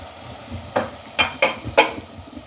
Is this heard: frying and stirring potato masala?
yes